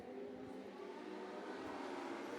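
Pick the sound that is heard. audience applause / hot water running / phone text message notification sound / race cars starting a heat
race cars starting a heat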